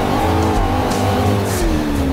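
A motorcycle engine in a racing video game drones steadily at high revs, its pitch sliding slowly downward, loud and continuous with no voice over it.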